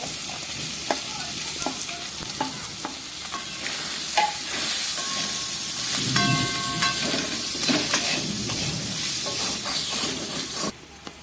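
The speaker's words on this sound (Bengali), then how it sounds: "আমি এখন কষে রাখা সয়াবিনটা ফ্রাই করে নেব।" Soybean chunks fry in a pan with a constant loud sizzle and hiss, broken by occasional scraping stirs and clinks, no voices.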